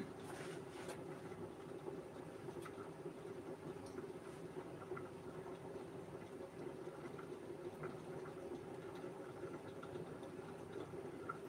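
Soup for the sick simmering and boiling in a pot on the stove, a steady low bubbling rumble throughout with faint occasional clinks, no talking.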